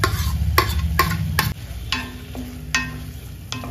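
Capsicum is stirred into sizzling pasta masala in a pan with a little water: sharp spatula scrapes and taps land several times over a steady frying hiss, with no talking.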